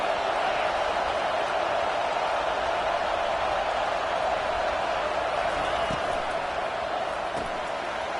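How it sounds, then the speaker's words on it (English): Steady stadium crowd roar fills a college football game, a dense continuous wash of distant voices with occasional brief louder bursts, and speech partly mixed in. "This crowd bringing the energy and noise early."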